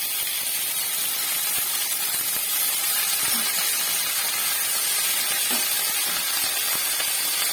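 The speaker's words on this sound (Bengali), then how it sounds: "এখন আমি এর মধ্যে দিয়ে দেবো কেটে রাখা পালং শাক।" Chopped spinach hitting fried onions in a hot pan gives a loud, steady, broadband hiss and sizzle for the whole stretch, with no talk.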